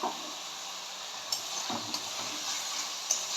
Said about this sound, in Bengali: চিংড়ি মাছটা দিয়ে ভালো করে আমি কষিয়ে নেব।